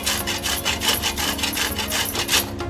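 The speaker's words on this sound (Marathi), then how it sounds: "मी आता या किसणीने किसून ठेवते असं." Coconut being grated by hand on a metal grater gives a steady, rhythmic scraping, fast repeated strokes close up with no talk.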